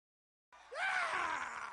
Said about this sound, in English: Howard Dean screams